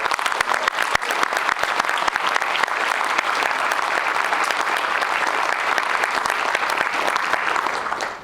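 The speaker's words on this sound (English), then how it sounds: "give a great round of applause" Sustained applause from a large crowd at a gala in Seattle, loud and steady for several seconds before trailing off at the end.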